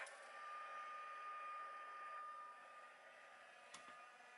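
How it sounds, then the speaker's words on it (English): Heat gun used for embossing, warming up with a steady whirring blower hiss that holds even and close throughout, with a short click near the end. "And now I'm going to use my heat gun."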